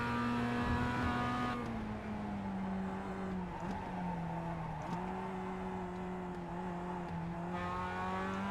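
A Mazda Cup race car in the iRacing simulator at Summit Point Jefferson drones through a sustained engine note that rises and falls with several gear changes and throttle lifts, with faint tire scrub beneath and no talk.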